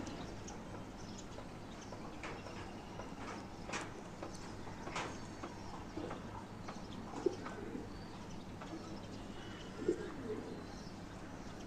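Pigeons in a loft coo softly and intermittently against a quiet, low background, with a few faint rustles and sharp clicks scattered through the stretch.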